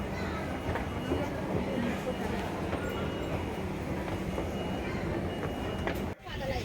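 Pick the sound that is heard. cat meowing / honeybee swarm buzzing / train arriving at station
train arriving at station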